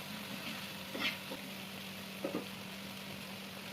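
Tomato garlic chutney cooks over a full-heat gas flame with a soft, steady sizzle, broken by a few light scrapes and taps of a spoon stirring the pan.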